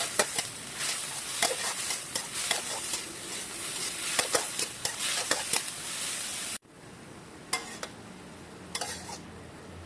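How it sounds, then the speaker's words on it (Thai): A spatula stir-fries watermelon rind in a pan, giving a steady run of light scraping clicks over a soft sizzle, close and fairly quiet. "ใครจะผัดแบบนี้ไปเรื่อยๆ แล้วก็เช็คความอ่อนนุ่มของเปลือกแตงโม"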